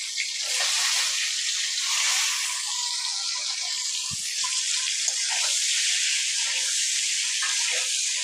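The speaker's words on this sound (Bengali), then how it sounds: "ডিমগুলো ছেড়ে দিচ্ছি, হালকা একটু ভেজে নিব।" Eggs seasoned with salt and turmeric frying in hot oil, giving a steady, close sizzling hiss throughout with a soft knock partway through.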